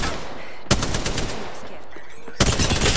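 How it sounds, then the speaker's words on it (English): Rapid automatic gunfire from a video game shooter rattles in two loud bursts, one early and one near the end, over a steady background hum. "They spotted me. I'm taking shots."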